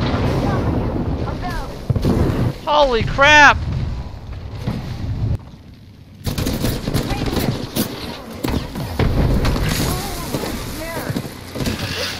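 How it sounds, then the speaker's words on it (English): Gunfire in the video game Apex Legends, bursts of shots and booming blasts mixed with rushing wind-like noise, loud and dense, with people talking over the action. "We're getting shot from both sides."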